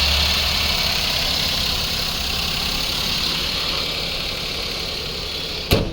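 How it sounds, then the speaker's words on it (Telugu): A 2012 Maruti WagonR LXi petrol car with about 58,000 km idles close by with a steady, even engine hum, ending in a brief sharp click. "ఇంజన్ సౌండ్ కూడా చాలా నీట్ కండిషన్ ఉంది, ఎలాంటి ఇబ్బంది లేదు"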